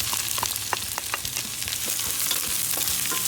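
Onions sizzle and crackle steadily in hot oil, with occasional sharper pops and stirring scrapes close by, no talking.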